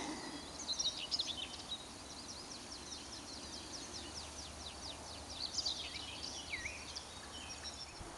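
Small birds sing and chirp outdoors above a steep slope overgrown with blackthorn and shrubs, their thin, rapid trills and calls coming in faint bursts over a quiet, breezy background with no speech.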